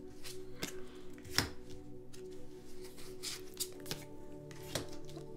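Tarot cards shuffled and pulled from a deck by hand, a series of soft riffling slaps and flicks at an irregular pace, close and fairly quiet over a faint background hum.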